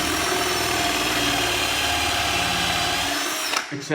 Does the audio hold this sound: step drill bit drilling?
yes